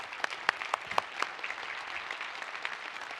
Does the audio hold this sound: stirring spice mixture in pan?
no